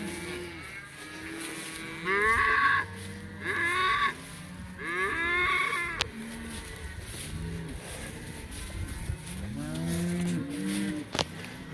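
Cows and calves in a lush paddock of mixed feed moo repeatedly, a steady chorus of overlapping low calls at varying distances, some louder and nearer, with brief higher bellows mixed in.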